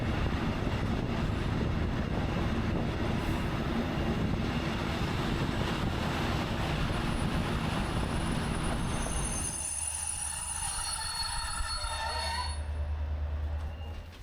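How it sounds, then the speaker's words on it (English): Train hauled by an ME class diesel locomotive on a Hungarian line, approaching Balatonfüred station: a steady loud rumble with wind buffeting, giving way near the end to quieter rolling noise and squealing brake tones. "our train is now approaching Balatonfüred, which is the start of the electrified railway network"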